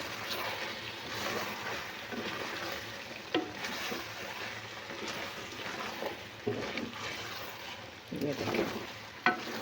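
Air-fried okra added to hot ghee for mutton bhindi, giving a steady close crackling sizzle with occasional stirring knocks, while someone speaks briefly over it.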